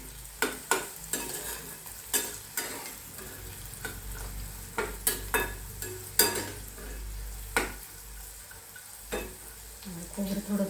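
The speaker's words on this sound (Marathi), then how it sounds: "आता हे छान परतून घ्यायचे खोबरं थोडंसं तांबूस पोचतपर्यंत ते परतून घ्यायचं" Dried coconut slices being sautéed in a pan for a thick-poha chivda: repeated sharp spatula clacks and scrapes at an irregular rhythm over a faint, soft sizzle, close by.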